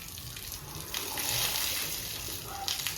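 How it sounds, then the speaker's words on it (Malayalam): Water poured over an elephant's body to cool it splashes and gushes in uneven pours, soft and close, with a hissing spray that swells mid-way and again near the end. "വെള്ളം ഒഴിച്ച് ആനയുടെ ശരീരം തണുപ്പിക്കുകയാണ്"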